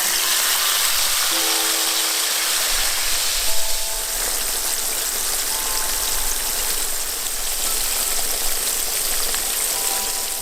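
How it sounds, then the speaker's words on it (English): A whole fish deep-frying in hot oil for sweet and sour fish, a loud, continuous hiss and crackle of bubbling oil that stays steady from start to end. "we can put the whole fish into the hot oil"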